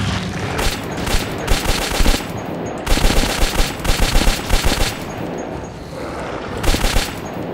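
Short bursts of automatic weapon fire in the video game Metro 2033, loud and close, coming in several distinct rattling volleys separated by brief pauses.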